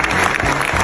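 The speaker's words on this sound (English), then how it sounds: "The room exploded in cheers. Everyone stood to clap" A crowd at a Heisman Trophy ceremony claps and cheers in a dense, continuous burst of applause that fills the room, loud and close, with no single voice standing out.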